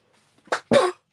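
A person coughs twice up close, a short sharp burst and then a longer, harsher one, with quiet before and after.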